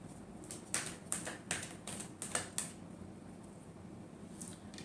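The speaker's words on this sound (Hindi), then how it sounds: "Last shuffle." Tarot cards are shuffled in a quick series of crisp riffling taps and snaps, close and fairly quiet, with a short pause after the burst.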